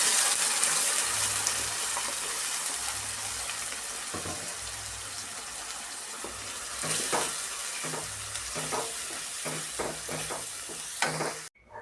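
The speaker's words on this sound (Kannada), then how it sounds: "ಆಯಿಲಲ್ಲಿ ಚೆನ್ನಾಗಿ ಫ್ರೈ ಮಾಡಬೇಕು" A ground coconut and tomato paste fries in oil for a coconut curry, a dense steady sizzle with bursts of stirring and spatter growing busier in the second half, close up with no talking.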